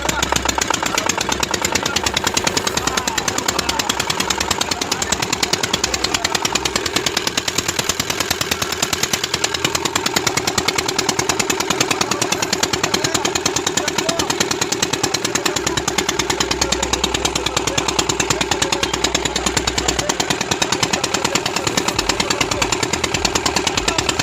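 A boat engine runs loudly and steadily on a river, a continuous rough, throbbing mechanical drone with no pauses.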